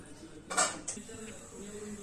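A heavy metal pressure cooker clanks down onto a stovetop, followed by a lighter clink, with low kitchen background noise around it.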